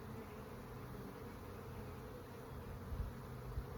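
Honey bees buzz steadily on a hive frame during an open colony inspection, giving a soft, continuous, close drone with no talking.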